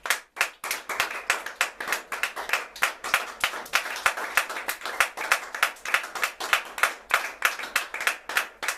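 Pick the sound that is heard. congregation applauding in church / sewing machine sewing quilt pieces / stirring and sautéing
congregation applauding in church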